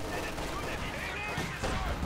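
Machine-gun fire from an MG42 in the Company of Heroes 2 strategy game clatters in a busy battle mix, mostly buried under continuous commentary.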